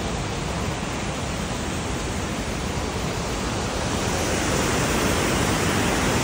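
McLaren Falls waterfall in Tauranga, New Zealand, pours in a continuous broadband roar, dense and steady from start to finish, loud with no voices over it.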